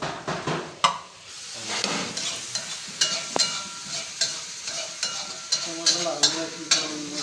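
Onion and garlic frying in hot oil for a Nepali mutton katnesi, a loud continuous sizzle with stirring and occasional clinks of a utensil against the pan.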